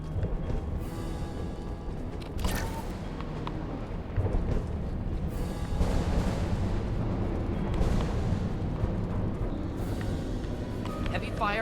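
Heavy gunfire and booming blasts from combat in the video game Mass Effect 2, a dense, continuous barrage of shots and explosions with sharp bursts standing out, loud throughout.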